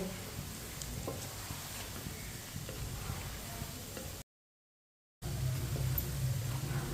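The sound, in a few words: aloo palak pakoras frying and being turned in oil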